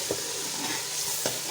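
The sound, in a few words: peas frying and being stirred in a pan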